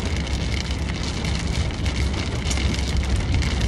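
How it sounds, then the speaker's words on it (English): Steady rain drums on a parked car's roof and windshield, a dense continuous patter heard from inside the car, close and fairly loud with no voices over it. "when I got in my car, it started raining"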